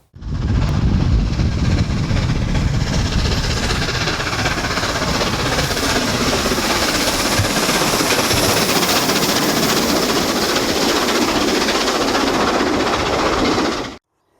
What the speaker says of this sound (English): the Flying Scotsman train come to a station which is only 3 or 4 miles away from me